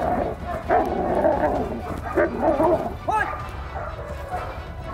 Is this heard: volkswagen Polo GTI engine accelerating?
no